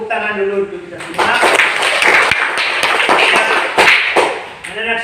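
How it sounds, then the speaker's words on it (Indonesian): A classroom of children applauds in a dense burst of clapping lasting several seconds, with a few sharp louder claps standing out; a teacher's voice is heard briefly before and after. "tepuk tangan dulu untuk kita semua"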